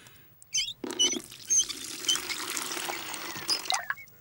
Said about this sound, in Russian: Сначала нальем воды.